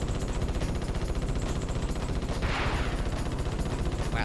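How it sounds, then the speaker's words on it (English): An enemy returns fire in the Ratchet & Clank video game, a loud, continuous stream of rapid rhythmic weapon bursts pulsing steadily without pause. "This one's starting to return fire."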